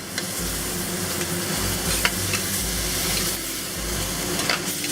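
Fish fillets with pickled chili sizzle steadily in a hot pan during a Sichuan-style stir fry, a dense, continuous frying hiss with occasional stirring clicks, close and moderately loud throughout, no voices.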